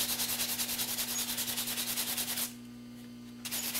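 Steady abrasive rubbing of sandpaper against a wooden spoon spinning on a lathe with a constant motor hum, stopping abruptly near the end before briefly resuming.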